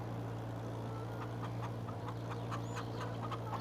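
Chickens in the farming game Farming Simulator 22 cluck and peep faintly over a steady low engine-like hum, with scattered short calls throughout.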